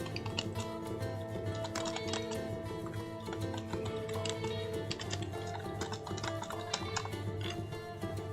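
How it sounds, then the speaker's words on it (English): Steady rapid typing on a computer keyboard, dense clicks and taps continuing alone for several seconds at moderate level. "You guys just have to listen to me type for a moment."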